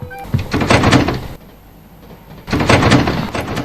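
A shop door slides and thuds shut, then locks, with two loud bursts of rattling movement separated by a quieter pause and no talk over it.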